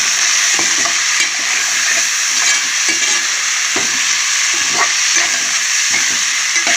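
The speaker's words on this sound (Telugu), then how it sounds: "కొద్దిగా పసుపు కొద్దిగా కారం గరం మసాలా కొద్దిగా దీన్ని మొత్తం ఫ్రై చేస్తాను" Mutton with drumsticks fries in oil with turmeric, chili and garam masala, giving a loud, continuous hissing sizzle broken by regular scraping stirs of a spatula, close up and with no voices.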